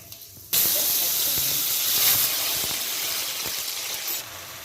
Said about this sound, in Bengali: এবার এখানে আমি 5 ফোড়নটা দিয়ে দিচ্ছি, তার সাথে শুকনো লঙ্কা এবং যে তেজপাতাটা রেখেছিলাম সেটাও ফোড়নে দিয়ে দিলাম।